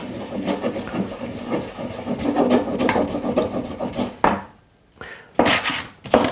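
Abrasive rubbing strips lacquer from a steel hammer face down to bare metal: a steady, close scratchy rasp of back-and-forth strokes that stops briefly near the end, then resumes in two short bursts.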